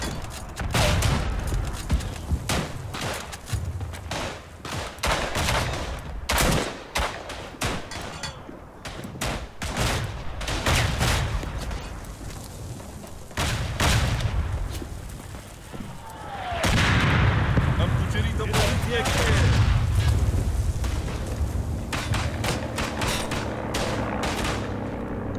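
A World War I battlefield in the shooter Tannenberg, set in Galicia, with a fusillade of rifle shots cracking at irregular intervals and heavy explosions including a grenade blast, a rumbling barrage swelling midway, and voices talking in between.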